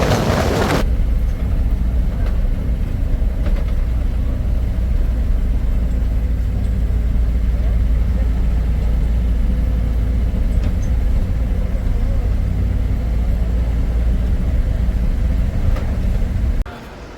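Steady low engine rumble and road noise from inside a moving vehicle on a hill journey toward Srinagar in Uttarakhand, continuous and fairly loud throughout, with a brief burst of noise at the start and a drop near the end.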